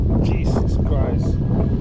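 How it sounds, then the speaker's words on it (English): Strong wind buffets the microphone on a fishing trail, a steady loud roar and rumble that lasts the whole clip, with a faint voice half-buried beneath it. "so much wind."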